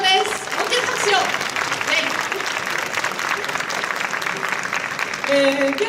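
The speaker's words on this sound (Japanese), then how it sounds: "大きな拍手を。" A seminar audience at JAPANTEX 2016 applauds warmly to welcome the speaker to an interior design talk session, dense steady clapping filling the room throughout while a voice talks briefly underneath near the end.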